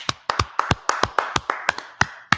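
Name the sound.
audience clapping for the class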